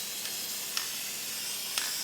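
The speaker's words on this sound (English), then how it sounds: "Now I'm going to spray it with some of this heavy duty corrosion inhibitor" Corrosion inhibitor sprayed in a steady aerosol hiss onto the battery tray of a 5th generation Subaru Outback, faint and continuous with a few brief sharper bursts, and no voices.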